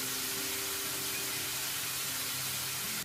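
Water spraying onto plants in House Flipper makes a steady, loud hiss that runs unbroken through the whole moment with no talking.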